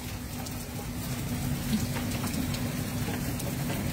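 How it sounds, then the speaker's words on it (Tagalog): Heavy rain pours steadily in a downpour, a dense continuous hiss with a low rumble beneath, constant and close throughout with no voices. "Ang lakas ng ulan, oh."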